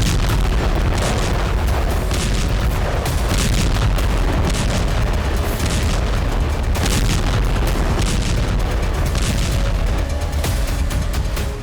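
Drone strike explosions on Russian air bases, a continuous run of heavy booms and rumbling blasts, loud and dense with repeated sharp bursts rising over a sustained roar.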